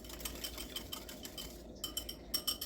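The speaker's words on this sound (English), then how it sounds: "You're going to take a spoon and you're going to mix that up." A spoon stirs buttermilk cornbread batter in a bowl, soft rhythmic scraping and light clinks against the bowl, faint and close with no talking.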